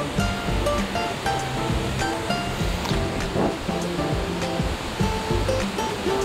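Water splashing from a fountain in Tsuen Wan Park, a large public park in Hong Kong, makes a steady broadband rush throughout, close and fairly loud, with faint background voices.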